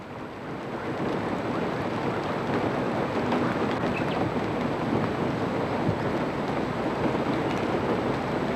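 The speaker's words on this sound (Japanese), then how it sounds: "しかしこの年は長雨が続き、" Steady rain falls during a prolonged wet season over a riverbed gravel bar nesting site, a continuous even hiss with no breaks, moderately distant and alone.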